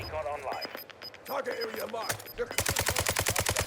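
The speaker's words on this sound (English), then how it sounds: "I'm popping shots at this guy because I don't want him looking over here." Rapid automatic gunfire bursts in the video game Warzone 2, loud and close, following a stretch of game sounds and talk.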